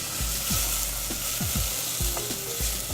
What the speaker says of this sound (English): Here we're going to put a little olive oil in a pot. And with this, we're going to cook our leeks.